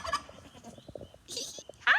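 A turkey on a homestead gobbles in a quick, rattling burst, with a louder, shrill call breaking in near the end, close and clear against a quiet background.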